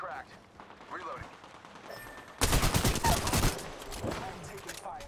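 Gunfire in Apex Legends: faint scattered shots at first, then a sudden loud burst of rapid automatic fire for about a second, trailing into more distant shots, with a voice speaking over the fight.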